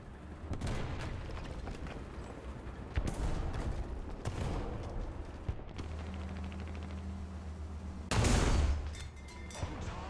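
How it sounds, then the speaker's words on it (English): An artillery barrage in War Thunder thunders as repeated heavy booms and rumbling blasts, with bursts of gunfire and a low engine drone, ending in a loud close explosion. "Our sector is under artillery barrage!"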